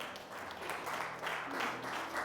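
Church congregation applauding and acclaiming the Lord, a soft, continuous wash of many hands clapping at some distance, with faint voices mixed in.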